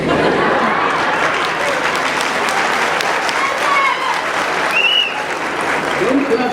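Crowd applause with a sustained clapping texture at a public address, mixed with a loud voice speaking over it and some cheering.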